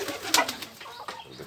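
Pigeons kept indoors alongside chickens in a household coop coo softly, a few low rolling calls close by against faint room noise.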